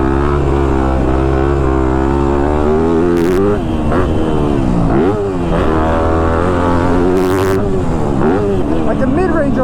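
A Yamaha YZ250F dirt bike engine drones loud and close while being ridden, its pitch sliding up and down as the throttle varies, with wind buffeting, and a rider talks over the noise.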